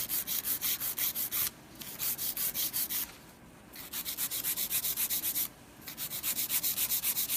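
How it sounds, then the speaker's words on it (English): A 100 grit file works the sides of artificial nail extensions. Quick, close, scratchy back-and-forth strokes keep a steady rhythm, broken by two brief pauses. "I'm going to take my file, and I have a 100-100 grit file, holding it straight on the sides."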